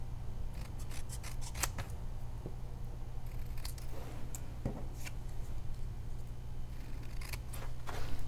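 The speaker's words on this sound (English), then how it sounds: "Just trim it with your paper snips." Paper snips trim a small piece of card, giving a rapid run of crisp, close snipping cuts in short bursts over a quiet steady hum.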